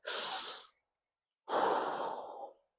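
Two long, deep breaths drawn through the nose during a guided breathing exercise, with bent knees and a spinal pelvic lock, each a soft airy rush separated by a short pause, close and clear with no talking.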